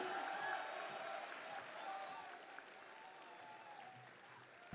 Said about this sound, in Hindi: हम सिर्फ नाम लेंगे और आप लोगों की तालियां बताएंगी कि आप उन्हें कितना पसंद करते हैं